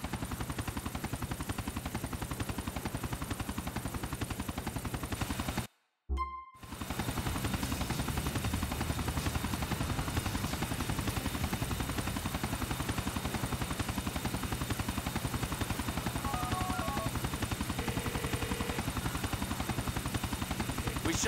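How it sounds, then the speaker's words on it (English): Military helicopter rotor in the game GTA 4, a steady loud droning chop running continuously under constant gunfire, broken by one brief moment of near silence around the sixth second. "Shut down that chopper for you."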